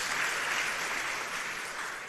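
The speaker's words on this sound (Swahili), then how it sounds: "Mchipikieni makofi kabisa." A church audience claps in a steady, dense wash of applause that stays loud and even for about two seconds, with no voices over it.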